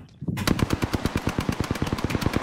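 Rapid automatic gunfire in the Apex Legends video game, a dense, loud burst of evenly spaced shots starting abruptly after a brief quiet moment and continuing to the end.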